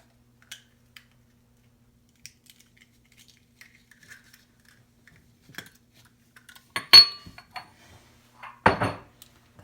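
Pizza dough ingredients with salt and an egg being mixed in a bowl: a few sparse light taps, then two louder clattering bursts of utensil against the bowl near the end, with no voices.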